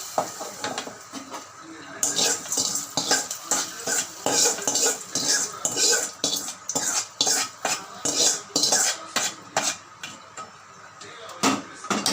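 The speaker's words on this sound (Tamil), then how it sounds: "நல்லா கிண்டி விட்டுக்கோங்க" Okra sambar is stirred in a pot with a metal spoon, producing repeated rhythmic clinks and scrapes against the pot over a soft bubbling background, loud and close.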